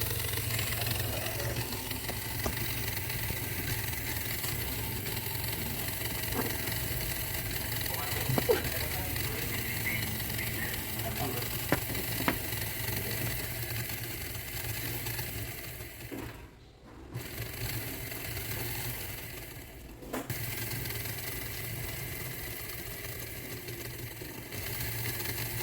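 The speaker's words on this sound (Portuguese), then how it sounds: "No meu caso de bancada, eu trabalho com esse motor elétrico." An electric motor hums steadily on a workbench test setup while valve calibration goes on, a low constant drone with faint mechanical ticks and a couple of brief dropouts. Low speech is present.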